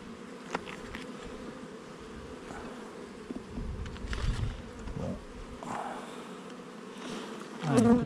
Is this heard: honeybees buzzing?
yes